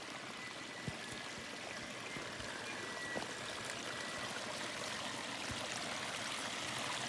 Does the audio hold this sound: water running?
yes